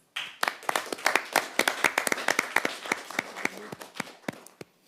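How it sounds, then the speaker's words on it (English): A modest audience claps for high school debaters at a debate final. Distinct individual claps swell quickly, patter unevenly for several seconds, then thin out to a few last claps. "Let's give them a round of applause."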